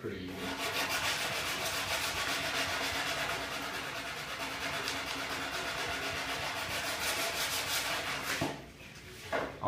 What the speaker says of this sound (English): you want to always sand this way